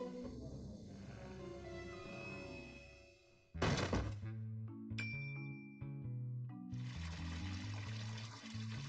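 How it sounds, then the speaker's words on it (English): In a Roblox game scene, chemicals are poured down a toilet: a sudden sloshing splash and flush-like gush of water, followed by clinking chimes and a game music bed. "so he poured all the chemicals down the toilet"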